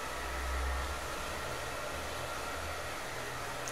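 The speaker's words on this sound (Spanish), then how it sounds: "secamos con el secador de mano" A hand-held hair dryer blowing while drying hair, a continuous loud whooshing roar with a low motor hum underneath, steady and close throughout.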